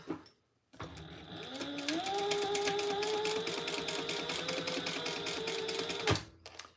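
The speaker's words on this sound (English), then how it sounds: "I'm going to sew down each side" A sewing machine runs steadily while stitching down each side of a small handmade bag, one continuous close burst of whirring motor and rapid needle clatter lasting several seconds before stopping abruptly.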